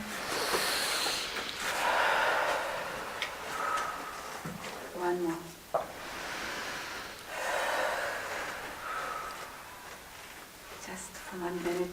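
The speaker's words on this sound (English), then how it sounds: "I would like that everybody just takes a really deep breath" A group breathes deeply in slow repeated cycles, each inhale and exhale clearly audible as a breathy rush, with a few short sounds between breaths.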